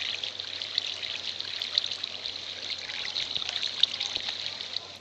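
Steady trickling and rushing of flowing water in the Minecraft oneblock world, a continuous bright hiss at even loudness with no talk.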